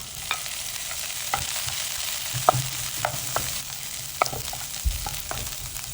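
Garlic and onion sauté in a pan for sinigang na bangus, a steady close sizzle punctuated by repeated sharp clicks and scrapes of a spatula stirring, with no talking.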